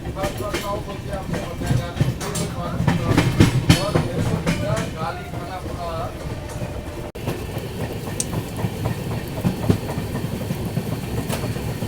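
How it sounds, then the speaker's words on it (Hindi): A passenger train hauled by an EMD diesel locomotive rolls along the tracks, with a loud rumbling run, rhythmic wheel clatter and a low engine drone, joined by nearby voices and ambient chatter. "और यहाँ हमारी ट्रेन में EMD लोकोमोटिव लगा दिया जा चुका है।"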